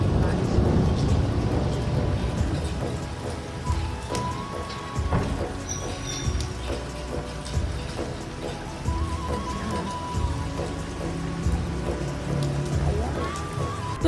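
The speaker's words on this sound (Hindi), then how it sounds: "तो देखिए कितनी ज़बरदस्त यहाँ पे बारिश हो रही है।" Heavy rain pours steadily outside in a dense, continuous hiss, with low rumbles that suggest thunder nearby and occasional faint background sounds throughout.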